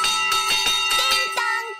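A big fire engine bell in a cartoon rings in a steady run of bright metallic strikes, loud and close, with no talk over it.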